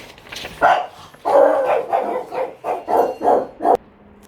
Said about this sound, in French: moi je crois qu'ils ont décidé de faire beaucoup de bruit aujourd'hui, hein, les toutous